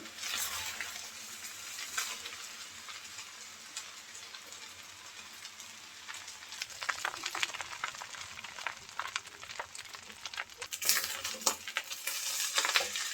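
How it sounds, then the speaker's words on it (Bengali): Chicken fried rice frying in a pan over low heat, a soft continuous sizzle with intermittent scraping and stirring clicks from a utensil, growing a little louder and busier toward the end, with no talking. "এখন ভালো করে ভেজে নিতে হবে"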